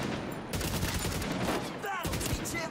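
Rifle fire in the video game The Division 2, a dense, loud burst of rapid shots that runs continuously for nearly three seconds with barely a pause.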